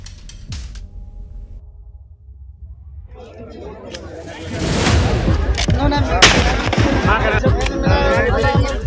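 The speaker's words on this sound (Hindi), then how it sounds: "तालाब के किनारे धाई धाई की आवाज।" Gunfire from guns fired beside a pond, heard as repeated sharp cracks and booms in a dense, loud volley that builds over several seconds, with talk mixed in.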